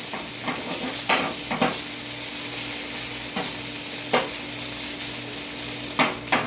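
Food sautéing in a pan, making a constant dense sizzle that stays close and loud, with regular stirring scrapes every second or two and no voices.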